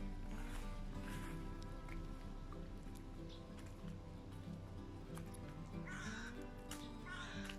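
Crows cawing outdoors around a country garden plot, harsh calls repeating at irregular intervals against steady background noise, strongest toward the end, with no talking.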